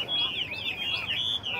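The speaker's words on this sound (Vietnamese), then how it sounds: "các bạn thấy tiếng chim mi nó hót chưa?" A caged Chinese hwamei songbird at a highland mountain market sings a continuous, warbling, rising-and-falling melody, clear and close over low background murmur.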